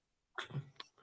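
One sudden, close sneeze bursts out after a moment of quiet and is followed by a small trailing exhale.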